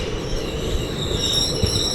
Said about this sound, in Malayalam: ഇപ്പോഴത്തെ സൈഡിൽ ഏതോ ഒരു ട്രെയിൻ വന്ന് കയറി